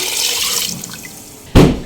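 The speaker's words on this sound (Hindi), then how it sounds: "1 लीटर इसके अंदर पानी हम डाल देंगे" Water is poured into a pressure cooker for chicken haleem, a steady hissing stream that fades, followed by a sharp metallic knock near the end.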